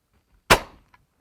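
A single loud shotgun blast from a dove hunt in South Texas cracks close by in open air, its report decaying quickly, followed by a faint click.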